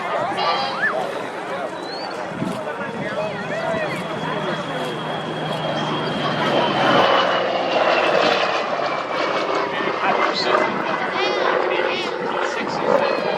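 A Skyraider with a 3,350 cubic inch radial engine drones past along an airshow line with a deep radial rumble that swells and slowly shifts pitch as it passes, steady and fairly close.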